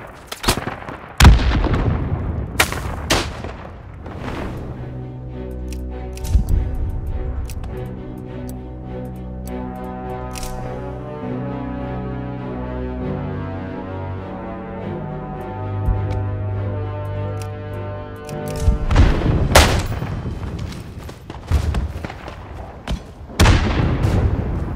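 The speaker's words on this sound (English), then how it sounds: "I'm only getting taken fire from here, but I do not know from where exactly." Gunfire in the World War I shooter Isonzo, defending the Piave against German attackers: sharp shots and booms cluster at the start and end, with a sustained droning tonal layer in between.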